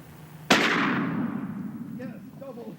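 A single sharp gunshot fired during a hunt, loud and close, with a long rolling echo decaying afterward and faint voices murmuring near the end.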